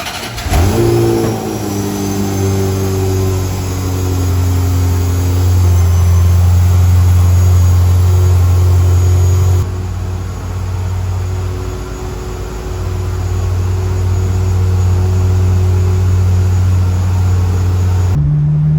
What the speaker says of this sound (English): I love that transmission shift.